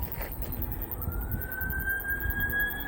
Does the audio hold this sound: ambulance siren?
yes